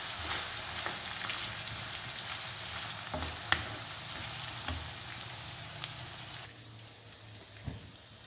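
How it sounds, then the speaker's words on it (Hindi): Chicken coated in garlic ginger paste is pan-fried on a low flame in a karahi for Shinwari chicken karahi, giving a soft, continuous sizzle with occasional clicks and spoon knocks that drops to a quieter hiss toward the end. "लहसुन की स्मेल होने तक हम इसको भूनेंगे"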